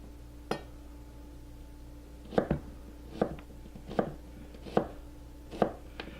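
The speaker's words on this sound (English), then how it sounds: "to quarter this, all I have to do now is make some simple cross cuts" Kitchen knife on a cutting board making cross cuts to quarter vegetables: seven crisp, close chops spaced about a second apart, with a quiet steady hum underneath and no voices.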